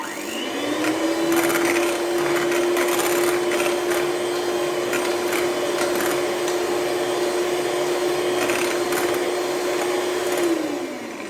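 An electric mixer whirs through cake batter made with flour, oil, yogurt and cocoa for a Nescafé-cocoa cake, holding one steady, close motor whine from start to finish.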